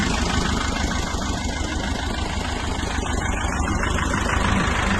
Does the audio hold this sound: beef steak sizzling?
no